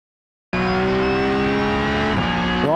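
Porsche Cup race car in iRacing starting abruptly after a brief silence, a loud close engine drone holding steady before a quick pitch drop and rise at a gear shift.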